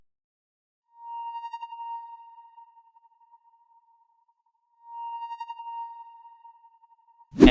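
A guitar accent sample in FL Studio with EQ and stereo panning sweeping right then left, two sustained bright tonal notes, each fading out slowly, separated by a few seconds of silence, ending with a short burst.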